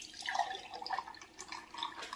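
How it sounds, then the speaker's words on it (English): A garlic, honey and apple cider vinegar tonic trickles and drips steadily as it is poured into bottles, a faint, close liquid splashing without talk. "and then we just pour it into our bottles"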